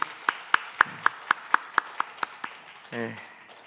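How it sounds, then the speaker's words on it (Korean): A congregation at an Easter Sunday worship service claps in unison, about ten sharp, evenly spaced claps in a steady beat, followed by a brief voice at the end. "우리의 예배를 받으실 부활하신 주님께 우리 한번 다시 박수로 영광 올려드렸으면 좋겠습니다."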